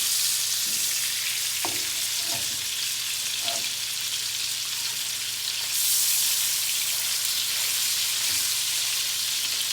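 An Angus steak sears loudly in a hot pan, a constant bright sizzle with a few soft knocks and scrapes as the meat is turned and rotated.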